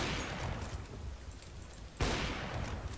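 Gunfire in an online multiplayer shooter match, a steady wash of distant rapid shots with one louder burst around the two-second mark, fairly faint overall.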